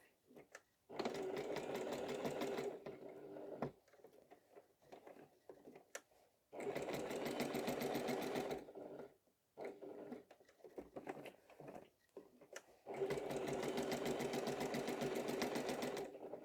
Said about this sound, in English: I'm going to go into that corner and then reverse to do the last little corner quilting